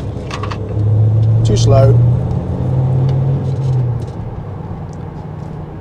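A Ford Transit Custom RSV Sport diesel van with 185 horsepower drives along, its engine a steady low rumble with gentle rises in pitch as it pulls, heard from inside the cab beneath a brief spoken remark.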